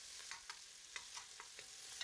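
Chopped onions and a little garlic frying in a pan, a soft continuous sizzle with regular light stirring scrapes every fraction of a second, faint and close with no voices.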